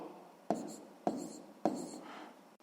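Pen strokes on paper while writing numbers in a sixth-grade math exercise, three short scratchy bursts at even spacing, close and quiet.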